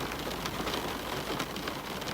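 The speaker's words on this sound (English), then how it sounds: "the world was quiet except for rain on glass" Steady rain patters against window glass in an otherwise quiet room, a continuous soft hiss and tapping with no voices.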